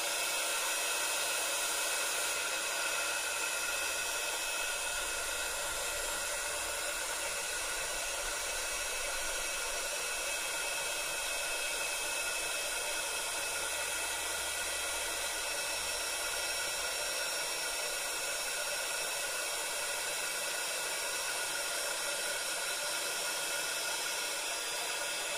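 A hair dryer blows continuously to dry Distress ink between colours, a loud, steady whooshing hiss that holds an even level from start to finish.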